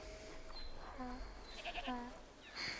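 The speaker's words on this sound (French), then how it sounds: "T'es une gentille chèvre, Lucinda." Goat in the video game A Plague Tale: Requiem bleating a few short wavering calls, close and moderately loud over soft ambient noise, with a voice speaking briefly nearby.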